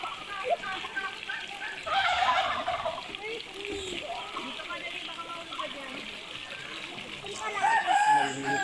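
Chickens cluck and call in a busy yard, with a few louder squawks and faint background voices; an outdoor, lively barnyard scene.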